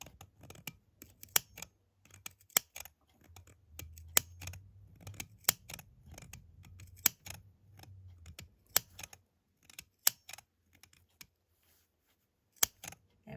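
Series of sharp, irregular snips from scissors clipping around the edge of a fabric zipper pouch close by, separated by short pauses, with a soft low rustle of fabric in between.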